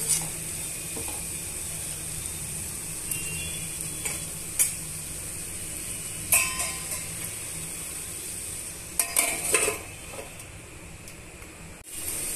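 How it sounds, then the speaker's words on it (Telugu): A spoon scraping and stirring curry ingredients in a pan over steady frying sizzle, with intermittent sharp scrapes and clacks against the pan and one knock near the end. "ఇవన్నీ బాగా మిక్స్ చేసుకోవాలండి"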